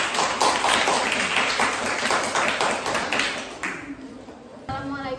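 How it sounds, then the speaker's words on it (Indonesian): Group applause in a classroom, a dense patter of many hands clapping for several seconds, thinning out toward the end as a voice begins speaking. "berikan aplaus dulu kepada kelompok 1"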